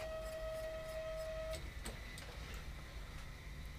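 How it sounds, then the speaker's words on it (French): A Dagoma 3D printer powers on with a steady electronic tone that cuts off, followed by a few faint clicks and a soft mechanical hum in a quiet room. "On allume l'imprimante."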